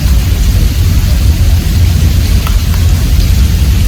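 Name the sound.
heavy rain storm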